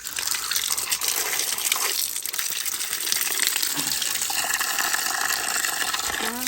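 Tap water gushes in a strong continuous stream, close and steady, splashing into a container with no voices.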